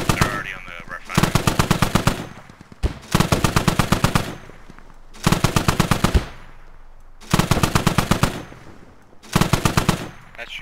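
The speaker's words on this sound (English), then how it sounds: "I keep shooting at it with the 50" A .50 caliber machine gun firing in the video game Squad, five loud sustained bursts of rapid shots separated by short pauses, close and dominant.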